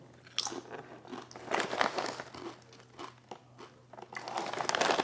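Someone bites into and chews crunchy buffalo-flavored protein chips from Costco, with repeated crisp crunches and bag crinkling up close over several seconds and no speech.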